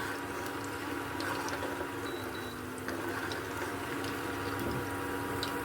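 Ingredients for puliogare gojju sizzle and fry in a pan with a steady crackling hiss and scattered tiny pops, close and even throughout, with no talking.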